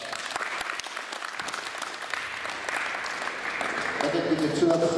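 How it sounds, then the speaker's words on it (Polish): Audience at a 3x3 basketball cup event in Kraśnik clapping for the sponsors, the applause swelling louder over several seconds, with a speaking voice over it. "Wielkie brawa dla sponsorów"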